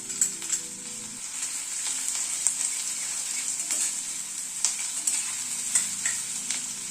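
Chopped ginger sizzles in hot oil in a steady bright hiss, with a few soft clicks and scrapes from stirring; no voices.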